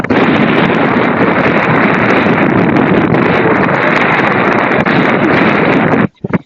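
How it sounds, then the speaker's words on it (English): Strong wind blasting straight into a microphone outdoors: a loud, steady roaring rumble that persists for several seconds, then cuts off abruptly, followed by a brief burst of buffeting. "the wind is blowing so hard that it's taking away, it's making too much sound"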